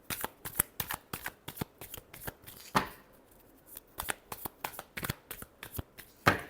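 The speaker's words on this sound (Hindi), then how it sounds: "last shuffle" Tarot cards are shuffled close up in quick riffling bursts, a series of sharp papery flicks and snaps coming in an irregular rhythm, with a louder slap partway through, against an otherwise quiet background.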